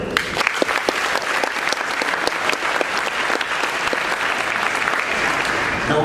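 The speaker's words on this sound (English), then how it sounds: "Let's round of applause for Aiden." Sustained audience clapping at a high school athletic signing ceremony, honoring a wrestler named Aiden. The applause is dense, loud and continuous for about six seconds, with no voice clearly heard over it.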